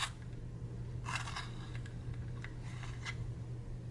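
An electric pencil sharpener grinds an artist-grade colored pencil with a low, steady motor hum and scratchy bursts of shaving, fairly faint and close.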